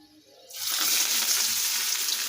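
Bonda fritters drop into hot frying oil, setting off a sudden loud, bubbling sizzle after a quiet start that stays steady and close.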